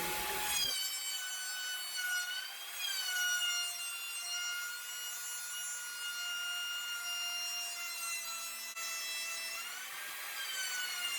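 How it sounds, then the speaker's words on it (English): A hand router cuts wooden trim for a handmade cabinet, giving a steady high-pitched whine with a bright, rising and falling tone as it moves through the wood. It runs continuously and close for about ten seconds with no talking. "This time I'm using the hand router to make the second layer of trim."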